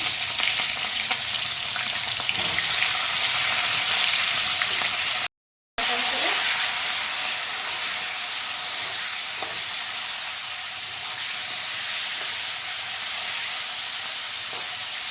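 Cauliflower frying in hot oil in a kadai, a loud continuous sizzle and crackle that carries on steadily after a momentary cut, easing slightly in intensity.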